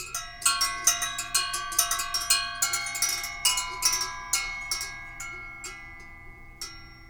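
Hanging metal chime from an Indian yoga studio, struck repeatedly in an irregular flurry of bright, ringing strikes whose sustained tones overlap and slowly decay, close and clear with no talking.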